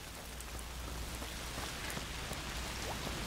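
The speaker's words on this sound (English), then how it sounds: "because it's raining outside." Steady rain falls in the video game A Plague Tale: Requiem, a soft, even hiss of drops on surfaces that holds at a constant low level throughout with no voices.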